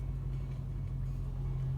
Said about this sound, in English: what you're hearing is just the tires turning on the epoxy floor